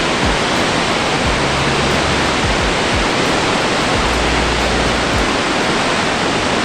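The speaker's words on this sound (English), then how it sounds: "I can hear the waterfall already, and it sounds very impressive" Barron Falls waterfall heard from the lookout, a loud, steady broadband roar of rushing water filling the whole scene without a break and with no voices.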